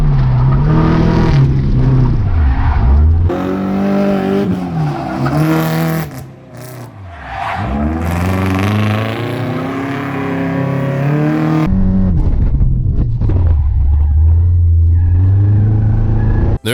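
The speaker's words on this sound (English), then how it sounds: "Autocross. The act of putting a bunch of cones in a parking lot and racing through them." A 2002 Nissan Sentra SE-R Spec V is driven hard around an autocross course of parking-lot cones, its engine revving up and down through repeated accelerations and gear changes, loud and close, with occasional tire noise.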